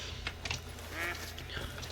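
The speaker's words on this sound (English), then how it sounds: "there's some ducks right there" Ducks quack a few times in a hunting video game, soft calls against a steady low background hum, with no voices.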